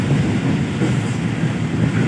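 A fast train running from Kotri to Karachi as it approaches Jumma Goth railway station, a loud, steady rolling rumble of wheels and carriages with no voices.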